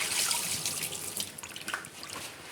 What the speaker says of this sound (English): Just make sure you wash your hands.